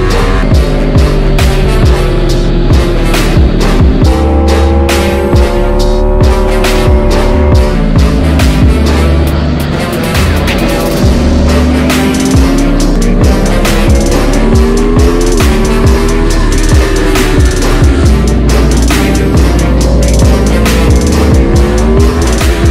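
Aprilia motorcycle lapping the Cremona circuit, a loud, close high-revving engine rising and falling through gear changes and corners, continuous throughout without speech.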